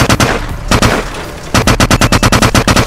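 Machine gun in a war video game firing loud, close bursts: two short volleys, then a sustained rapid string of evenly spaced shots.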